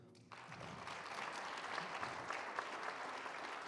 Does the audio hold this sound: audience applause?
yes